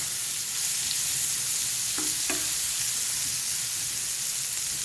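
Onions sizzle steadily in a hot pan for hamburger steak with the heat turned down, a constant close hiss of frying with a couple of brief wooden spatula knocks near the middle.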